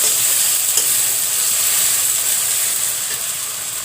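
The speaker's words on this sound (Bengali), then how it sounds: "দিয়ে দিলাম আদা রসুন বাটা, একটু ভেজে নেব।" Ginger garlic paste fries with prawns in a pan, giving a steady close sizzle with light stirring scrapes, no voices.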